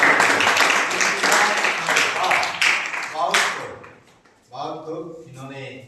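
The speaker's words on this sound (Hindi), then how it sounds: "इनके लिए जोरदार ताली।" Applause from the audience at a village school's general knowledge quiz prize event as the first-place winner is announced, broad steady clapping for about three seconds that fades out, followed by a voice speaking.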